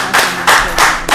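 Hands clap in a few loud, close bursts, roughly three distinct rounds of clapping in quick succession from a small group in a talk-show setting.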